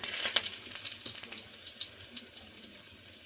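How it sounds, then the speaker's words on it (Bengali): Dried red chillies and bay leaves crackle and sizzle in hot mustard oil in a kadai, a steady close fizz with bright spitting pops, with no voices heard. "কড়াইতে সর্ষের তেল দিয়ে দিয়েছি, গরম হয়ে গেছে। ফোড়নে দিয়ে দেবো শুকনো লঙ্কা"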